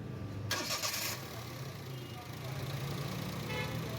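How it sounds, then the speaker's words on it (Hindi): A car engine starts after an air filter change: a short burst of starter cranking catches quickly and settles into a quiet, steady idle. "उसके बाद हम गाड़ी करते हैं स्टार्ट"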